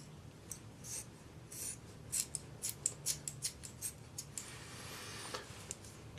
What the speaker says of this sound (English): Take your scissors and trim this right back to the edge.